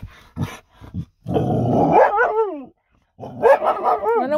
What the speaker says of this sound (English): Bears are supposed to run away when dogs bark.